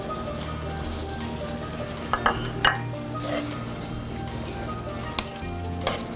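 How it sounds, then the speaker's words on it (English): Shrimp scampi pasta tossed in its sauce in a pan, with a steady sizzle underneath and a few sharp clinks of utensil against the pan scattered through, no talking. "Give this a good toss."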